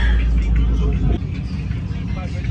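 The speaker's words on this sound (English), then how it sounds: "Big angry Jeep." A loud Jeep engine rumbles deep and steady at an import car show, nearby and loud for about a second before easing to a lower throb.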